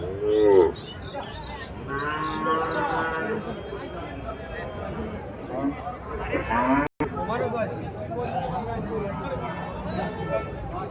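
Deshi cow at a cattle market mooing loudly and close, several drawn-out calls over steady crowd chatter and talking.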